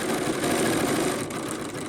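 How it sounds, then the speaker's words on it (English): A sewing machine stitches two fabric pieces together while piecing quilt center blocks, giving a steady, continuous mechanical whir up close with no talking. "So all I do is I place my 2 fabrics together, lift my bar, my foot, couple stitches, back stitch"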